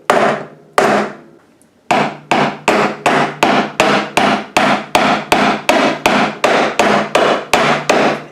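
Repeated hard knocks as walnuts are struck on a hard surface without a nutcracker: two blows, a short pause, then a steady run of about a dozen loud, evenly spaced thwacks, close and alone with no talking.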